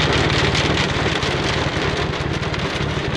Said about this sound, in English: Well, I guess it's hailing